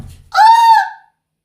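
A person gives a single loud, high, drawn-out imitation of an eagle's scream, close to the microphone, lasting under a second and then cutting to silence.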